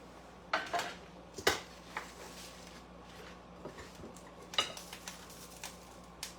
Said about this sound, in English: I'm going to get a piece of bread and cut it in half.